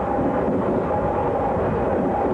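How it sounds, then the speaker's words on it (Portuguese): A TGV high-speed train travelling at speed, a steady broad rumble with a faint whine, continuous and close throughout. "O trem viaja a uma velocidade de até 320 km por hora."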